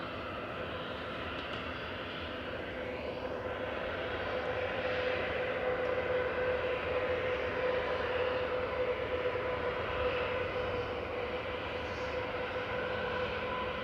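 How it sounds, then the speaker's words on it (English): SAS Airbus A320 departing Manchester Airport, a distant steady jet engine rumble with a thin sustained tone running through the middle, faint and without talk. "Departing in parallel is OYKAP, A320 Classic, heading back to Copenhagen for SAS with Flight 540."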